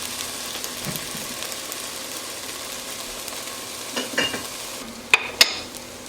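Browned vegetables for slow cooker pepper steak tipped into the slow cooker, giving a low rustle and scrape under a steady background hiss, with two sharp clinks of a utensil near the end.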